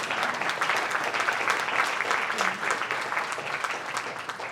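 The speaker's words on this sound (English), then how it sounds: "applause for that" An audience applauds at an in-person live event, steady dense clapping filling the space from start to finish at even loudness, with no voices standing out.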